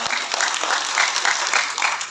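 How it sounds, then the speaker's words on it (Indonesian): Loud, close applause for award winners honoured as early childhood educators at a ministerial event, a thick continuous patter of many hands clapping with a faintly pulsing rhythm. "Tolong tepuk tangan lagi kepada para pemenang."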